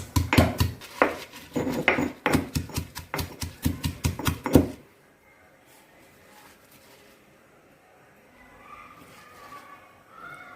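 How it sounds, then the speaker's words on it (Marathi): Rapid, sharp pounding of peanuts in a mortar by hand, a steady run of hard knocks for about five seconds, then quiet room tone with faint background noise. "मी हाताने अगदी मुठभर शेंगदाणे घालणार आहे आणि ते कुटून घेणार आहे"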